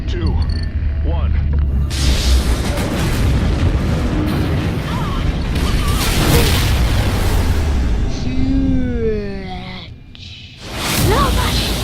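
A space station detonates in Call of Duty Ghosts: a loud, sustained roaring explosion with rumbling debris and whooshes, swelling again near the end, with game voices mixed in.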